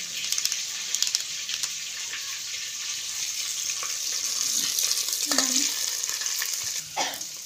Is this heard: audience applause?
no